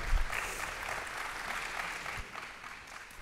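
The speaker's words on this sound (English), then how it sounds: "Let's give a great round of applause to Susan, Carmen, Laura, Liz, and Danica." Audience applause at a dairy symposium panel: steady, moderately loud clapping from a seated crowd that tapers slightly toward the end, with no talking over it.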